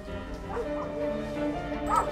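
Dog barking in a wartime film scene, a few deep woofs with yips spread across two seconds, fairly close and moderately loud over a low background.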